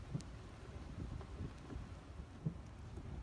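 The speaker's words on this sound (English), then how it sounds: "freaking pouring rain." Heavy pouring rain driven by strong winds of about 50 mph, a dense continuous wash of noise with occasional low gusty thumps, heard close and alone.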